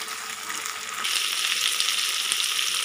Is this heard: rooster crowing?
no